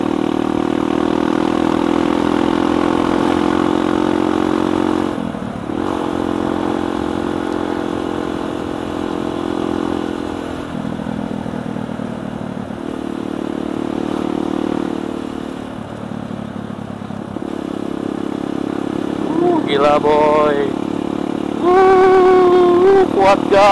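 A carbureted motorcycle ridden on the road to Puncak Bogor, its engine droning loud and steady with shifts in pitch as the revs drop and climb, and voices over it.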